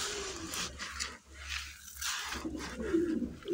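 Pigeons cooing in a loft, soft low throaty coos repeating close by amid rustling and scattered higher chirps.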